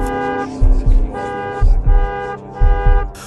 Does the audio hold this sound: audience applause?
no